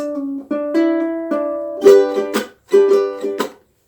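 A ukulele picks a short, bright intro riff, clear plucked notes in a bouncy rhythm, ending with a couple of strummed chords, played alone.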